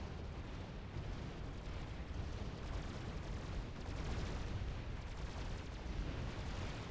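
Gunships fire machine guns in a Supreme Commander: Forged Alliance battle, a dense, continuous roar of rapid gunfire and explosions with no pause.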